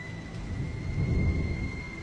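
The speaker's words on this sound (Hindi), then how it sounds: "तभी आसमान में जोर जोर से बादल गरज उठे और बारिश होने लगती है।" Low thunder rumbles and swells to a peak midway while rain begins pattering, a steady dark storm bed with no voices.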